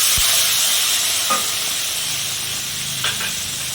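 Sliced onions hit hot oil in a pan and sizzle steadily, with a continuous bright hiss and a few soft scrapes and taps of a spoon stirring them through.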